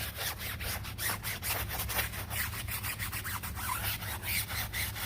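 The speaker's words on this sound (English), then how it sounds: "So we're just gonna scrub the tire" A car tire scrubbed by hand with a brush, dirt and grease coming off: steady, close rhythmic bristle strokes, loud and continuous with no talking.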